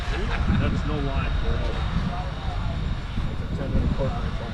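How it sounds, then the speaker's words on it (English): An airplane drones overhead as a steady, broad engine rumble behind people talking, continuous and moderately loud throughout. "We actually have a plane."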